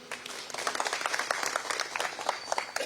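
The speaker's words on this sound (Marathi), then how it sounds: "एकदा जोरदार टाळ्या." An audience at a political discussion event claps steadily, giving a brief burst of moderately loud, dense applause from a crowd.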